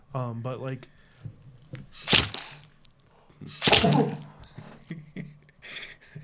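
Someone speaks briefly, then two loud, sharp sneezes burst out a couple of seconds apart, with a short exclamation near the end.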